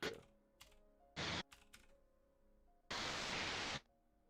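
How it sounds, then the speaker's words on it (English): Typing on a computer keyboard during a D&D 4th edition session, heard as short isolated clicks followed by two dense bursts of rapid keystrokes, close and alone without talk. "Getting used to typing it all in."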